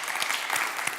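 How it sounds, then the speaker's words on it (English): A church congregation claps together in a sustained burst of applause, dense overlapping hand claps filling the room at an even, lively level. "everybody should be clapping"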